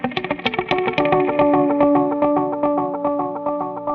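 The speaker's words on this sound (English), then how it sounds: "It's a twin channel analog delay with reverb built right into the signal flow." Electric guitar played through an Earthquaker Disaster Transport twin-channel analog delay pedal with built-in reverb: a run of quick picked notes followed by sustained chords that trail off in repeating echoes and a washy reverb tail.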